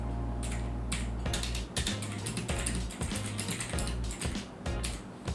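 Rapid typing on an AULA F2058/F2088 mechanical keyboard, crisp clacky keystrokes in quick uneven bursts with brief pauses, close and loud with no talk.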